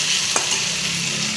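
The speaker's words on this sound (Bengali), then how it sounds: "একটু ভাজা ভাজা করে নিই" Potato pieces seasoned with turmeric and salt fry in a pan with a continuous close hiss of oil. A single faint clink is heard near the start.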